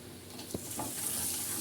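Turmeric and ground fennel-and-coriander masala stirred into hot oil in a frying pan for a green chilli and curd dish: a close, steady sizzle with brief scraping strokes of the spoon and no talking.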